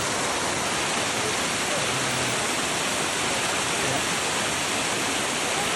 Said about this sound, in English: big waterfall up there.